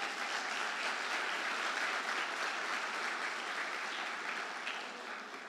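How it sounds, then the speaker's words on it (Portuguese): A church congregation applauds during a sermon, a dense, steady wash of clapping from many hands that holds evenly and eases off slightly at the very end. "Você poderia aplaudir Jesus agora?"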